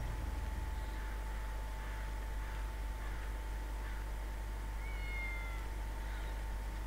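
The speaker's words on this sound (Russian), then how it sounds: "Кошка еще мяукает." A cat in the video game GTA V meows repeatedly, a series of faint, drawn-out cries over a steady low hum and an unbroken electronic tone.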